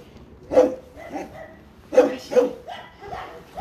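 Dog barking in an unfamiliar run: three or four sharp barks spaced unevenly, close by and moderately loud, with some whimpery yips between them.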